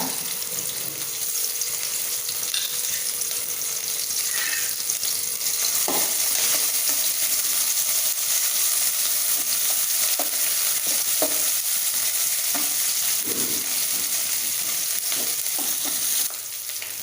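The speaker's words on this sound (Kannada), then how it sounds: "ಎಣ್ಣೆ ಬೆಚ್ಚ ಅನ್ನಾಗ ಈ ಗುದ್ದಿನ ಕಾಯಿ ಮುಂಚಿ ಶುಂಠಿ ಬೆಳ್ಳುಳ್ಳಿನ ಪಾಡೋದ" Ginger and garlic crackle in hot oil, frying for egg bhurji with a loud, continuous sizzle interrupted by occasional scrapes and clicks.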